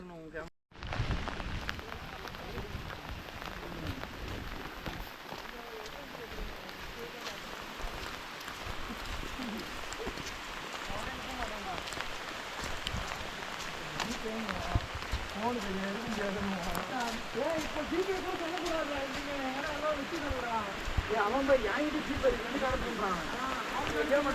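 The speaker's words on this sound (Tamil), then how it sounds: "இங்கே மழை வந்து மறுபடியும் ஸ்டார்ட் ஆகிடுச்சிங்க." Steady rain falls outdoors in Andhra Pradesh as a continuous broad hiss and patter that lasts throughout, moderately close, while people talk over it.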